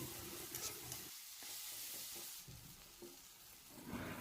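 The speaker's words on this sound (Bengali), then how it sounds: "এবার এর মধ্যে সজনের পাতাটাকে দিয়ে খুব ভালোভাবে নাড়াচাড়া করে মিশিয়ে নিচ্ছি" Moringa (drumstick) leaves being stirred in a hot cooking pan, a steady sizzle with scraping, tossing sounds close by, slightly louder at the start and end, with no talking.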